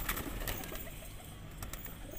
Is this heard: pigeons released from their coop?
yes